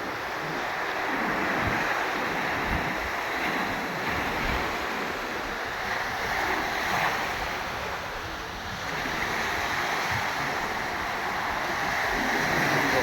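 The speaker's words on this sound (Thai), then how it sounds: "คลื่นคลื่นก็ยังแรงอยู่เลยนะครับ" Strong surf breaks steadily on a sandy island beach that has lost much of its sand, a continuous loud wash of waves with wind noise across the microphone and no talking.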